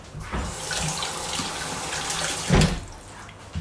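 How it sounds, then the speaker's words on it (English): A kitchen tap runs steadily while a knife is washed under it during Jamaican jerk chicken preparation, a close, continuous splash with a brief louder gush near the end and no talking. "I'll just give my knife a wash"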